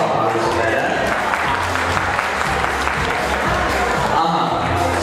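Wedding guests at Suren and Hasmik's wedding applaud the groom Suren: a loud, dense, continuous wash of clapping that runs unbroken for the whole stretch, with crowd voices mixed in.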